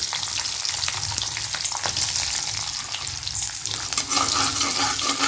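Garlic and asafoetida frying in hot oil, a steady loud sizzle with a brief watery splash or tap-like rush near the end; no voices.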